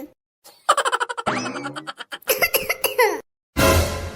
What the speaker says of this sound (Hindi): खांसी आवत है तोहरे खोखत बाटे बहनी